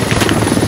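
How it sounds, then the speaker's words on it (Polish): Steady rhythmic thudding of an enemy helicopter's rotor blades overhead in the video game Squad, with a broad engine roar, loud and close, filling the whole moment without pause. "Nad nami wrogi heli"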